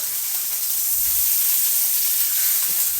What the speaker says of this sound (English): look at that searing on there